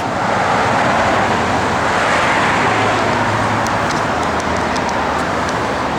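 A 1970 Plymouth Cuda drives along the road, its engine a steady, broad rumble under heavy road and wind noise, loud and continuous, with a few light ticks toward the end.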